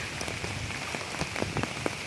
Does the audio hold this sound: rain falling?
yes